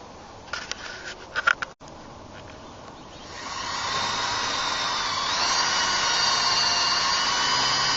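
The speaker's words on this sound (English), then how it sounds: "We'll go ahead and drill our 1/4 inch hole through it" A few light taps and clicks, then a power drill spins up into a sustained high whine, getting louder as it bores a 1/4 inch hole steadily through pallet wood, close by.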